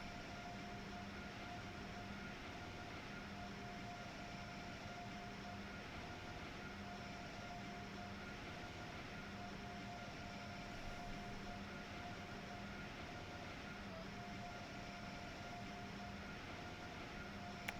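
A passenger train cruising in Train Sim World 3 on the New York to Trenton line, with a steady rolling rumble and constant tonal motor whine holding evenly throughout.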